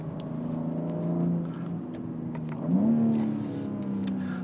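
A BMW X3 M Competition engine drones at moderate volume, then surges into a rising, harder pull as the turbo builds boost, heard from inside the cabin with no voices.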